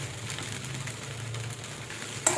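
Sago pearls and green chili sautéing in a pan, a steady soft sizzle with faint stirring scrapes and a brief clink near the end.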